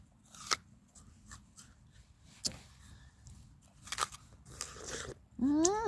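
A pet cat or rabbit bites and chews food, close crunchy bites scattered amid quiet rustling, ending with a short rising animal-like call.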